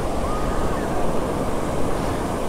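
Sea waves rolling onto a beach in rain in Ratnagiri, Maharashtra, a loud continuous rushing wash of surf mixed with wind, close by and with no voices.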